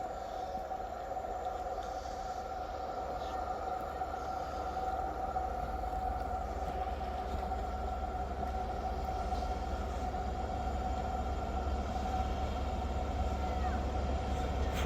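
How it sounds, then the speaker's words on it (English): A ScotRail train pulling into Monifieth station, a steady humming engine drone with a sustained tonal whine, rising slightly as it draws closer, no talk. "Arriving in now is the 1538 Scotrail service from Aberdeen to Glasgow Queen Street."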